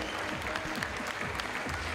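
Spectators at a bouldering final applaud a climber, a continuous crowd clapping with a few louder claps and faint voices mixed in.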